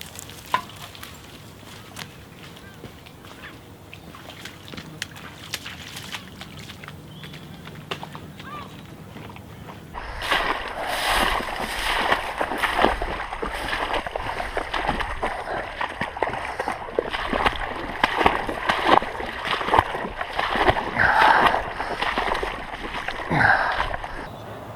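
Boots wading through flood water on a countryside trail in Norfolk, a continuous swishing, sloshing splash that starts abruptly partway through and stays close and fairly loud, following quieter outdoor rustling.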